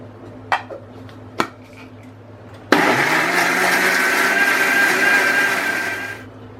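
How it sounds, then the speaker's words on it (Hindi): A couple of sharp clicks, then a mixer grinder bursts into a loud, steady whirring blend of onion paste for several seconds before abruptly stopping. "यही जार में डाल के प्याज की पेस्ट बना लेंगे।"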